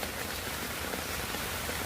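Steady rain falls on a rooftop, a soft, even hiss of drops with no breaks, fairly faint and heard alone.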